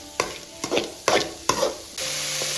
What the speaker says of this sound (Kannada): ಇವಾಗ ಈರುಳ್ಳಿ ಕಲರ್ ಚೇಂಜ್ ಆಗೋವರೆಗೂ ಚೆನ್ನಾಗಿ ಹುರ್ಕೊಳ್ಳೋಣ.